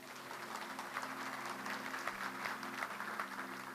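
A church congregation at a sermon claps for Jesus in a steady, fairly faint wash of applause that sounds somewhat distant and keeps an even level throughout.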